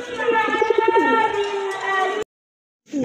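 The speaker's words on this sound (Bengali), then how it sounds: "খুবই সুন্দর এক জোড়া কবুতর" A pair of pigeons coo close by in low, rolling, continuous tones mixed with a voice, then the sound cuts abruptly to silence before a brief return.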